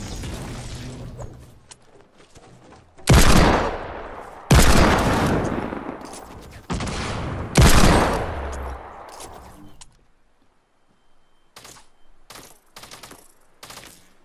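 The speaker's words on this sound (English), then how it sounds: "This kid's getting shot at." Gunfire in Fortnite comes as several loud, sharp bursts, each ringing off into a decaying tail, followed by a string of shorter, quieter shots near the end.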